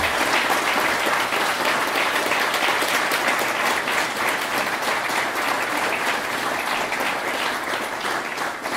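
A large room of attendees at a C++ programming book launch applauds steadily, with thick, continuous clapping from many hands holding at an even level throughout the full stretch, close and loud.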